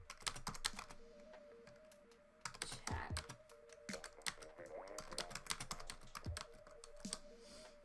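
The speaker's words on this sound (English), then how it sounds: "I am typing" Rapid typing on a computer keyboard during a Splatoon 2 stream, a steady run of close, crisp key clicks in uneven bursts, with a faint hum underneath and no talking.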